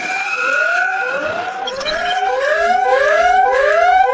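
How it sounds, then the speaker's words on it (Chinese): An alarm siren wails in an animated village drama, a loud, close electronic tone sweeping upward again and again in a steady repeating cycle, with no voices over it. "这警报声咋又响了？"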